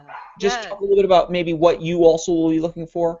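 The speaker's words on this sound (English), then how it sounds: "sorry for my dogs there." Dogs bark and yip in the background of an online education hangout, several short barks scattered under steady talk from a nearby speaker.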